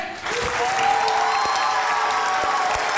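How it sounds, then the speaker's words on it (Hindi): A burst of enthusiastic applause from a TV studio audience, dense clapping that swells quickly and holds steady, with a few faint cheers mixed in. "तालियां बजाकर खुशामदीद कहेंगे"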